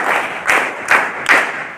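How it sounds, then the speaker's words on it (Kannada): Applause for school quiz teams comes as three short bursts of clapping from a small group, loud and close, with brief pauses between them. "ಇವರಿಗೂ ಸಹ ಚಪ್ಪಾಳೆ."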